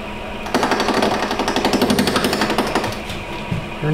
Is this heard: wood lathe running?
yes